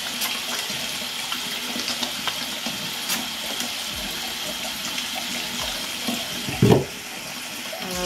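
Tap water running steadily into a sink for washing with aloe vera soap, a continuous splashing flow with a brief louder clunk near the end.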